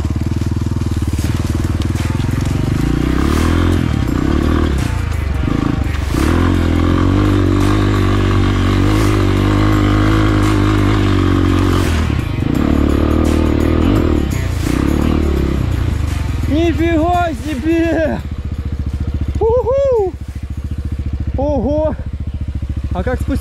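A Rottor Titan 250 motorcycle with a 250cc engine drones steadily up close, rising and falling as it pulls away, while someone talks over it and brief chirpy squeaks appear near the end.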